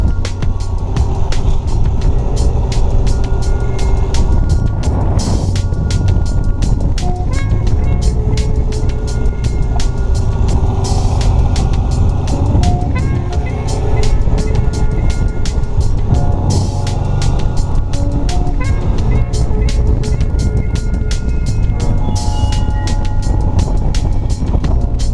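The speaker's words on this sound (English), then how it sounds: "let the clutch out as you give it a little tiny bit of throttle. And feel free to shift gears" A motorcycle pulling away under light throttle as the clutch is let out, its engine droning loud and close with rises and dips as it shifts through gears, buffeted by wind noise on the microphone.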